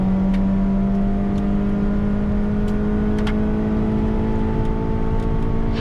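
A cheap Honda Civic race car holds full throttle around Silverstone, a constant engine drone with a slowly rising pitch, loud and continuous from inside the cabin, with no talking.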